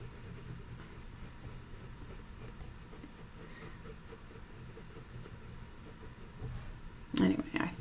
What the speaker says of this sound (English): you kind of have to use a sharper pencil to really get into that grain